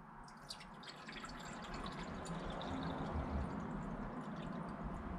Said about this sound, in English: We're going to add enough water to be able to fully submerge the thing.